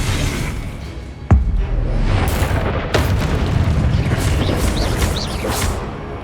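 Confringo fire spell in Hogwarts Legacy, with a sharp explosive crack followed by a sustained roaring rumble and another bang, loud and close amid busy combat sounds.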